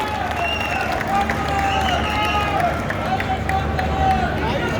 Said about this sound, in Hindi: आप सभी जोरदार तालियों से अशोक कंवर जी का स्वागत कीजिए